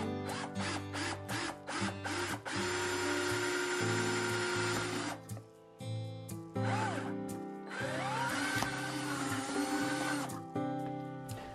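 A power drill bores a hanging hole through a dried homegrown gourd being made into a birdhouse, running in several short, close bursts and then longer whirring stretches with brief pauses between.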